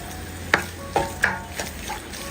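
Curry leaves go into a frying pan and get stirred, giving soft sizzling under several sharp scraping taps of a spoon against the pan.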